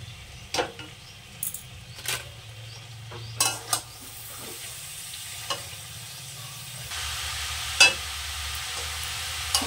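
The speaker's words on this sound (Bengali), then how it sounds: "মশলাটা সুন্দর করে মিশিয়ে দিয়েছি।" Chopped cabbage is stirred into fried, oil-releasing masala in a pan, a soft continuous sizzle broken by several sharp spoon scrapes and clinks, with the frying growing louder near the end.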